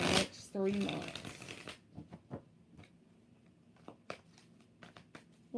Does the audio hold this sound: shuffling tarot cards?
yes